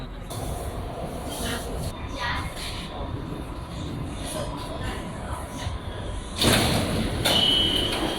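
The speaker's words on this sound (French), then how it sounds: "Après quelques minutes, le métro s'est rempli totalement." A Paris metro train rumbles steadily around the listener inside a car, with a hiss and clatter as the sliding doors open and close partway through.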